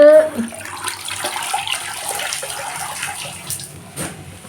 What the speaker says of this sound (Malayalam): നമ്മളിത് നന്നായി മഞ്ഞൾ വെള്ളത്തിൽ കഴുകി